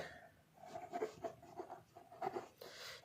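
A pen writes by hand during a maths lesson, giving soft scratchy strokes in short uneven bursts, very faint and close with no talking.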